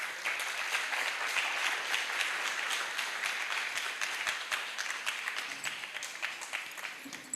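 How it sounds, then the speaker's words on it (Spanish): An audience at a medical congress applauds, a steady dense patter of many hands clapping heard from a distance, sustained evenly and tapering slightly near the end. "Un aplauso para ustedes."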